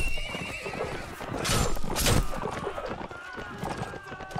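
Horses neigh and gallop during a battle in the video game Mount & Blade, with a loud whinny rising over rapid hoofbeats and a voice talking over the game sounds.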